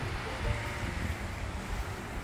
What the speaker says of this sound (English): Here the water breaking against the beach.